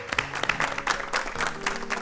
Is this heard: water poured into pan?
no